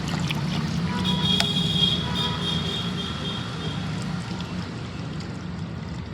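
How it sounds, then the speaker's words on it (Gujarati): Water running from a pipe into a bucket at home, a continuous close gurgling trickle and rush with a faint tonal whine, steady throughout and without speech. "હવે એ ડોલને તમે પાણીથી હાફ યા પોણા ભાગનું પાણી ભરી દેવાનું।"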